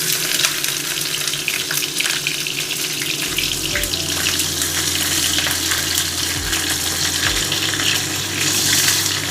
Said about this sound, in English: So you see my oil is hot now. We're going with our onions.